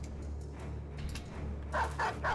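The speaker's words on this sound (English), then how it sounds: "Dogs?" Dogs barking in the video game Battle Brothers, a few short barks coming in quick succession over a low steady background hum, with the loudest cluster near the end.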